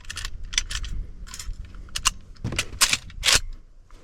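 Rifle shots fired at a bottle or can target set 50 yards away while hunting in Florida, several sharp cracks spread across a few seconds, fairly close and loud against a quiet outdoor background.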